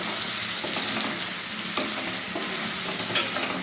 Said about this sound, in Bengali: তো আলুটা ভেজে নিই